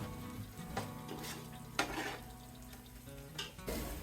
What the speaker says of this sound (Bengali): দশ বারোটা এলাচ আর তিনটা লবঙ্গ গরম মশলা দিয়ে আমি আরও এক মিনিটের মতো ভেজে নেবো